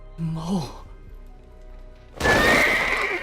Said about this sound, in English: when Mao was being intimate with Yuusha, suddenly there was a sound of horses that startled them